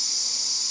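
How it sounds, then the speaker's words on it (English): An air compressor with a constant air leak, a steady high hiss running unbroken through the whole brief moment with no other sounds. "it's just leaking air all the time and it doesn't hold the air"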